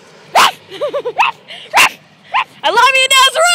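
A puppy near a busy street gives sharp, close barks and high yips in quick bursts, mixed with whimpering, squeaky cries and nearby voices.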